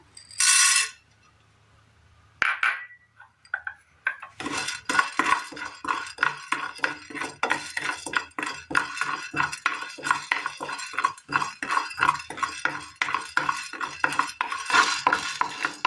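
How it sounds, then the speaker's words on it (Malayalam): Urad dal (black gram) poured into a pan and stirred dry with a metal spoon: a brief pour at the start, then a steady series of close, rhythmic scraping and clinking strokes against the pan. "ഈ പാനിലേക്ക് നമുക്ക് ഈ ഉഴുന്നിട്ട് കൊടുക്കാം."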